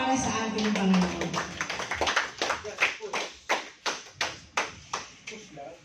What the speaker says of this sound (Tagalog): Isang palakpak po para sa ating Panginoon.